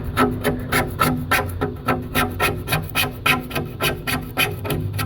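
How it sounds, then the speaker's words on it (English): A hand scraper rasps steadily at old sealant on an aquarium in quick, rhythmic back-and-forth strokes, close-up and fairly loud, with no talking. "You sit there and you use your scraper and scrape."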